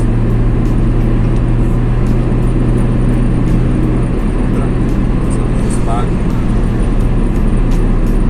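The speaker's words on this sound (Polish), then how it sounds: "Jest dosyć słabo wygłuszone to auto, słychać i silnik, i wiatr" Loud, constant engine drone and rushing wind noise fill a poorly insulated Honda Civic VII 1.4 cabin, steady throughout, with a few faint ticks and squeaks.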